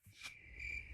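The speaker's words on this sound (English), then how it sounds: "Crickets." A short, faint burst of crickets chirping gives a steady high trill that holds for about a second, with no voices over it.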